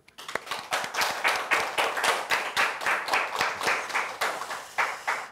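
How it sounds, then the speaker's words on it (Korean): A church congregation at a Sunday service claps together in encouragement for a missionary, a dense burst of rhythmic hand clapping that swells and pulses evenly, close and loud, with no talking. "우리 선교사님 더 힘을 얻어서 더 용기 있게 사명을 감당하도록 격려의 박수."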